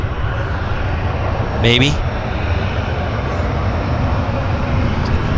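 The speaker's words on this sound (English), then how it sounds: "We've got a little guy taxiing out here" A small Kodiak amphibian plane taxis at Vancouver airport, its engine a steady, fairly loud drone throughout, while a person says a word briefly over it.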